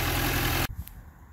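Suzuki GSR 600 motorcycle engine idling, a steady loud mid-low drone that cuts off abruptly halfway, leaving quieter background.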